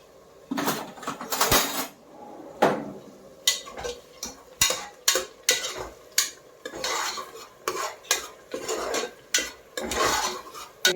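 Rice in a pot being stirred for a one-pot rice dish, producing repeated scraping and clinking strokes of a utensil against the metal, close and fairly loud, with no talking.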